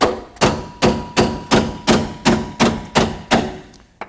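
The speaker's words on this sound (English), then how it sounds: "put some pressure on it counterclockwise, you hit it with a hammer" A hammer striking a reversed impact screwdriver to loosen rusted car screws, about ten sharp metallic blows in an even rhythm, each ringing briefly, loud and close.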